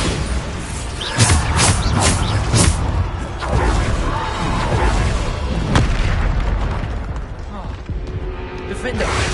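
Hogwarts Legacy gameplay with the Bombarda explosion spell: loud booming blasts and bursts crowd a dense, chaotic game soundscape while a voice calls out spell names over the top.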